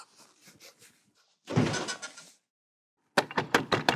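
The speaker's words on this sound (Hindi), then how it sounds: "अरे यार इतना कितना वक्त लगता है दरवाजा खोलने में? कुंडी फंस गई थी यार।" A jammed door latch is worked loose and the door pulled open. A few soft rattles are followed by a loud scraping clatter, then a pause and a burst of sharp knocks and bangs near the end.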